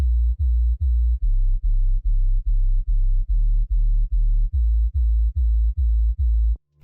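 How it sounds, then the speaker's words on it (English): Serum sub bass run through diode distortion, low-passed and made mono, playing a steady pattern of about fourteen round, deep pulses alone, ending abruptly. "Now let's fill in the low ends with a nice round sub"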